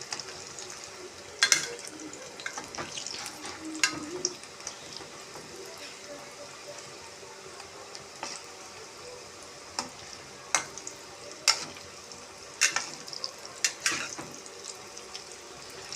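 Raw banana dumplings frying in hot oil give a steady low sizzle, broken by sharp clicks and spatters at irregular intervals, close up with no talking.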